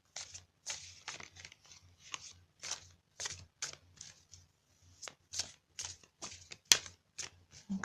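Oracle cards for healing energy being shuffled by hand, a quick series of crisp riffling, flicking bursts in an uneven rhythm, close and fairly quiet with no voices.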